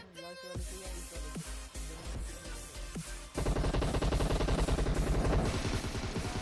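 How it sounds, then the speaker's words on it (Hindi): Rapid gunfire in a battle royale video game firefight, with single spaced shots at first and then a loud, dense automatic burst that runs continuously to the end, no talking. "एक बंदा अपार्टमेंट से भी हमारे ऊपर फायर करता है"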